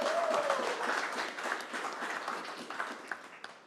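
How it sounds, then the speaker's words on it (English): An audience applauds at a press conference, a steady burst of clapping that holds at moderate loudness across the room and gradually thins toward the end, with a voice briefly audible at the start. "I think that deserves a regional round of applause."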